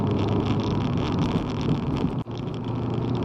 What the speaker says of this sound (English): you can hear the thud as you go over the cat's eyes